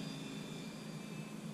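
Foam board and 3D-printed Sopwith Camel RC plane taxiing, its electric motor giving a steady, even whine that holds close and constant throughout with no voices.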